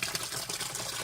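Water and air bubbles gush steadily from the half-inch return line of a recirculating deep water culture hydroponic setup into its reservoir, a continuous close splashing and bubbling with no talk.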